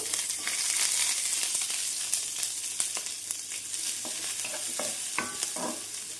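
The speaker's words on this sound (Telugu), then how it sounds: "ఇప్పుడు క్యారెట్ క్యాప్సికమ్ ఉల్లిపాయలు ఉల్లికాడలు అన్నీ వేసుకుందాం" Carrot, capsicum, onions and spring onions stir-fry in a pan for street-style chicken noodles, giving a steady close sizzle with scattered scraping and clinking strokes of a spatula, and no voices.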